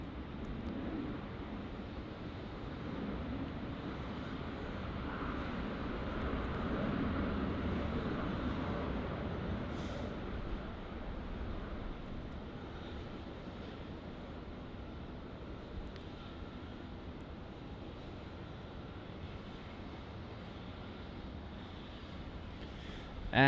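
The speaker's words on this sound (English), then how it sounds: "There's another Qantas 737 arrival here" A Qantas Boeing 737 arriving from Adelaide lands on runway 34 at Melbourne Airport, heard as a steady, broad distant roar with wind noise that swells slightly and then holds for a long stretch.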